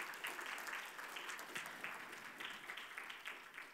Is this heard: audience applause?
yes